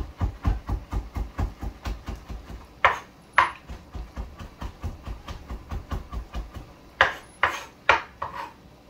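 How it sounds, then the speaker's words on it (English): Fresh ginger is chopped with a knife on a board, a fast even run of close, crisp chopping thuds with a few louder knocks and brief pauses between bursts. "Cutting up his fresh ginger for my bunjal crab and shrimp."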